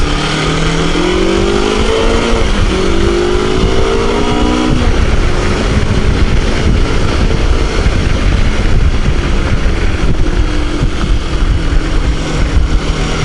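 A motorcycle engine revs loudly as the throttle is twisted, pitch climbing in a few rising sweeps before settling into a steady, rough roar close by.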